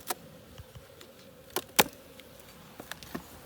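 A faint hum of honey bees in an opened hive, broken by a few sharp clicks and knocks from handling the frames nearby.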